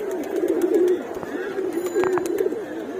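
Pigeons coo in low, throaty rolling phrases at a loft, close by, with scattered soft taps and flutters of wings around them, several birds overlapping.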